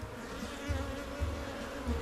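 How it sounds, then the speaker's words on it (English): A swarm of bees buzzes around a tree, a dense, steady close drone of many wings throughout the short stretch, with no voices. "judging by the amount of bees on the tree"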